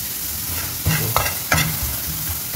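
Onions sizzle in hot oil in a pan for okra gravy, a steady close hiss with a few brief stirring scrapes and clacks, no talking.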